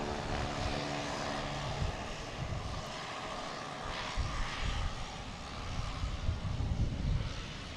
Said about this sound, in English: That's a 767-200.